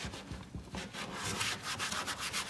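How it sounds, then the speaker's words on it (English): A cloth wipes down a car dashboard with alcohol before colouring, a soft, close rubbing with quick back-and-forth scrubbing strokes in an uneven rhythm. "But just give it a real good wipe over."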